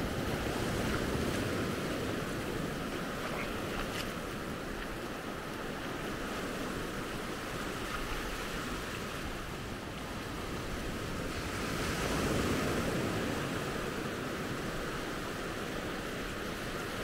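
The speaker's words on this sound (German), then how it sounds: "Kaum eine Welle. Ganz ruhig das Wasser." Calm sea at Maspalomas, Gran Canaria, with gentle waves washing softly and steadily, a faint wind hiss over it, no voices.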